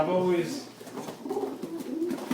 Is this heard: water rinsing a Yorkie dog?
no